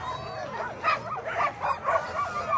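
A big, strong sled dog at the start of the Willow 300 mid-distance sled dog race barks and yips in rapid excited bursts close by, with some whimpering and faint voices in the background.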